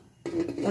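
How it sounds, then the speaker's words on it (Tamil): A single soft clatter as a metal lid settles onto a pot of vegetable biryani, followed by faint rattling and light kitchen noise, no voices. "இப்போ மூடி வச்சுருவோம்."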